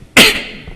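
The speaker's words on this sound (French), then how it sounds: "Pas trop tousser dans le micro, pardon." A single sharp cough bursts close into a microphone during a lecture, a loud abrupt hit that tails off quickly into quiet room tone.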